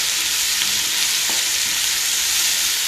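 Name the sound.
ginger garlic paste frying while mixed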